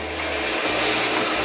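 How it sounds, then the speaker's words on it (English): A small Japanese toilet flushing, a loud, steady rush of water that swells and keeps gushing up close, with no voices. "So now if I flush the toilet"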